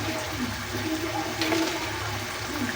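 Chicken feet broth boils in a pot with a steady, close, watery bubbling and churning that continues evenly throughout, with no talking.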